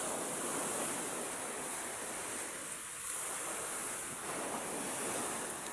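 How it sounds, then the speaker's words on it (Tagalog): Ocean waves surging onto a shore where trash washes up, a steady roaring wash of surf with wind buffeting the microphone, no talking. "Dahil siyempre sa sobrang lakas ng alon."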